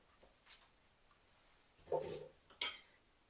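A sharp knife chops parsnips on a solid cutting board in a quiet kitchen, with a few soft taps followed by two louder, distinct knocks and clinks, close by and without talking.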